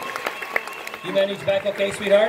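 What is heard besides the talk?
audience applause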